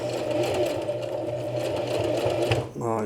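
A sewing machine runs steadily, stitching a small coin purse along the inside of a marked line, its close, continuous mechanical hum ending in a brief stop and a final short burst of stitches.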